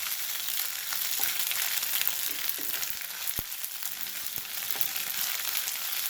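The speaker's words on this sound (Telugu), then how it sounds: "ఉల్లిపాయ ఇందులోకి కొంచెం అల్లం వెల్లిపాయ వేసుకోవాలి వేసుకొని కలుపుకోవాలి" Onion frying with ginger-garlic paste for a potato and green pea masala curry: a steady, close sizzle with a few sharp spatters and clicks, and no voices.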